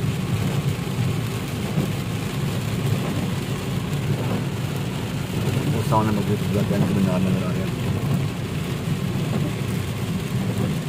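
Heavy rain falls on a road in Medina near the twin minarets of Masjid al-Qiblatayn, a constant dense hiss under someone talking nearby, with a faint engine in the background.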